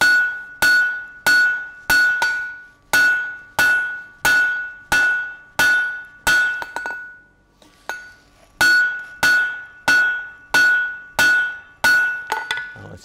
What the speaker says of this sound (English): I'm using my 3-pound ball peen.